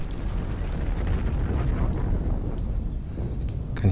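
A mine blowing up in the video game Dead Space 3, heard as a sustained, loud, rumbling blast with dense low-end roar and no voices over it.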